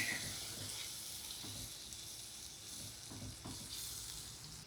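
Ground tomatoes frying with golden masala in a pan for smoked dal makhani, giving a steady close sizzle with a few soft stirring scrapes throughout.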